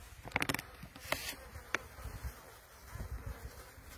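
Honeybees buzz and drone close by at an open hive during a spring inspection, with a few sharp taps and rustles scattered through the hum.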